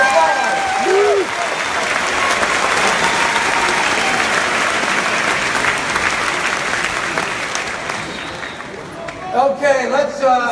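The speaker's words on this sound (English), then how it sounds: "Let's give our veterans a big round of applause." Town hall crowd applauding veterans, a loud steady roar of clapping that carries on for several seconds, with brief talk at the start and voices returning as it dies away.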